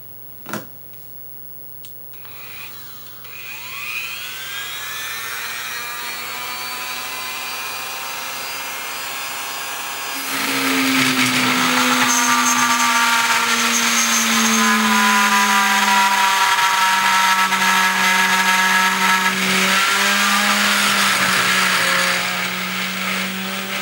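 A small rotary tool bit cuts into plastic at its lowest speed, giving a thin steady motor whine that grows louder and grittier partway through as the bit bites in, with no talking.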